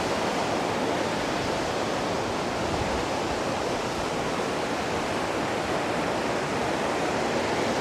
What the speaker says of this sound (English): And here we see the tubing rapids here.